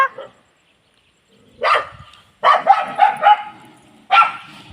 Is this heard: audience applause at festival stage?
no